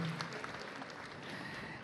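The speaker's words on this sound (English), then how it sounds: "Can we give them a round of applause for going all of the way and graduating?" Audience at a school district employee back-to-school convocation applauds for graduating high school students, a quiet, steady wash of clapping heard from some distance with no voices over it.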